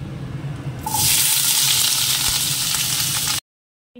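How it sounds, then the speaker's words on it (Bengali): Potatoes hit hot oil in a pan with a sudden, loud, steady hiss of frying that holds close and even for a few seconds, then cuts off abruptly. "তো আলুটাও ভাজতে দিয়ে দিই।"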